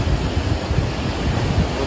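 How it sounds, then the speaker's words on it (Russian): Sea waves wash and slap around a small boat in rough water off Kamchatka, a continuous rushing roar mixed with heavy wind buffeting on the microphone, fairly loud and steady throughout. "Вот это уже волны."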